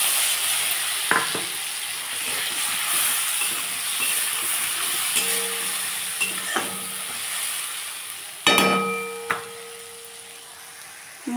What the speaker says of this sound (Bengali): মশলাটা দিয়ে দিলাম, মশলাটা কষিয়ে নেব।